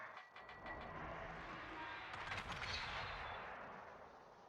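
A tank cannon shot in World of Tanks: a loud, booming blast rises out of a steady, dense roar of battle noise near the middle, then fades back into the rumble.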